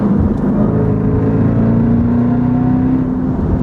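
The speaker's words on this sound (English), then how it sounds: "Damn, that supercharger." Supercharged 2018 Jeep Grand Cherokee Trackhawk under power, a steady loud engine roar with a sustained rising supercharger whine running continuously, close and unbroken with no talking.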